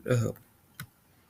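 A single sharp computer mouse click, quick and close, right after a short burst of speech.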